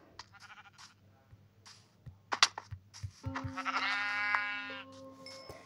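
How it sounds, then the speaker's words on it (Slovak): A sheep bleats several times in a video game, short cries at first and then a longer, louder bleat near the end, over quiet game sounds. "Ešte ovca."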